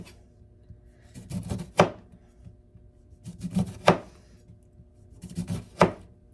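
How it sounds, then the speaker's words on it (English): A knife slicing lemons on a cutting board, close and clear, in three evenly spaced bursts of quick cuts, each ending in a sharper chop against the board, with no talking. "And lemon's just going to slice it up as normal."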